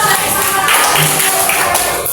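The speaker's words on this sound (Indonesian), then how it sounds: "Tepuk tangan untuk saudara." An elementary school class claps together in a classroom, a dense, steady patter of many hands lasting about two seconds.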